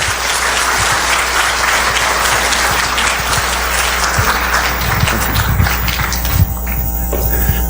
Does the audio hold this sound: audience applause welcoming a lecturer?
yes